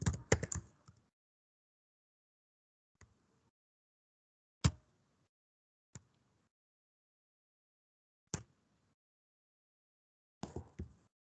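Sparse keystrokes on a computer keyboard while a for loop is typed: a quick cluster of clicks, then isolated single taps spaced a second or two apart, ending in another short burst, close and fairly quiet.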